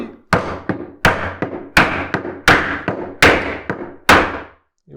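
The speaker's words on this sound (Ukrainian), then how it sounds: "беру молоточок і." Repeated sharp hammer taps on metal, fitting a coupling onto the shaft of a Moulinex Ovatio 3 food processor, about eight strikes in an uneven rhythm, each ringing briefly, close and fairly loud.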